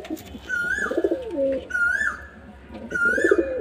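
Pigeons at a fancier's home loft coo close by in three repeated rolling phrases, clear and fairly loud with no talk.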